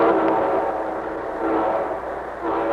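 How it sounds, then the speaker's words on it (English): An old-time radio train effect for a railroad-sponsored musical broadcast, a steady rumbling chug of rail wagons rolling along at constant loudness, with slight swells, and no voices over it. "And here comes our star-studded show train."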